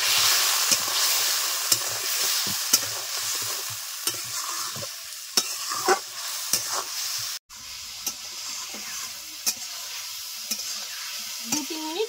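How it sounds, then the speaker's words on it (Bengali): Vegetables frying with salt and turmeric powder, a continuous soft sizzle and hiss broken by repeated sharp spatula scrapes and taps against the pan, close by, with no voices. "3-4 মিনিট ভালো করে কষে নেওয়া হয়ে গেছে।"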